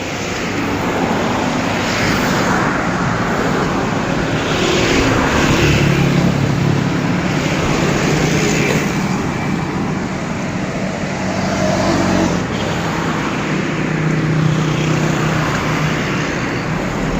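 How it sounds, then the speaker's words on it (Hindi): Steady roar of road traffic on Jail Road, Lahore, a street lined with car showrooms, with cars passing continuously and engines swelling and fading, loud and close with no pauses. "इस साइड से ट्रैफिक आ रही है"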